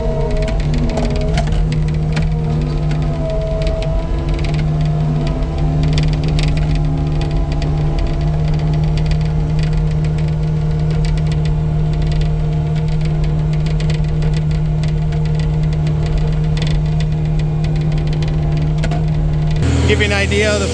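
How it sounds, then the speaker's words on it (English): A Mega Mower X rigid-mount four-blade brush cutter on a standard-flow skid steer mows through brush, with a loud, steady engine drone and a constant cutting roar that holds close and even throughout. "not bad for a rigid mount 4-blade brush cutter"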